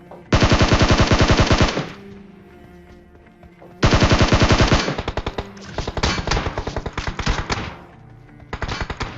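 Automatic gunfire in a Hindi-commentated battle royale video game, with a SCAR rifle and Vector in play: loud, rapid bursts near the listener, a long burst, a pause, then several more sustained rattling volleys.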